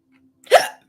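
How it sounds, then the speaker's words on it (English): A single sharp human hiccup, close and loud, sounding abruptly out of near silence and fading within a fraction of a second. "I'm just waiting for the next hiccup."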